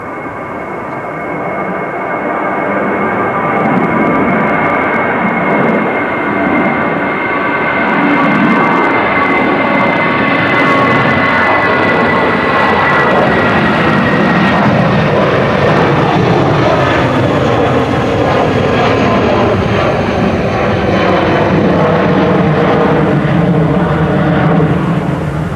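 An Airbus A320 Classic bound for Oslo departs Manchester Airport on a windy day, its engine roar loud and sustained for about 25 seconds as the pitch slowly shifts while it moves past.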